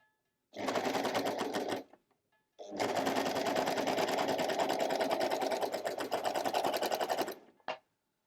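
A Janome Merrylock 3000CL overlock machine stitches in two runs: a short burst, a brief pause, then a longer steady whirring hum with a fast rattling needle rhythm, close and clear, with a faint click at the end.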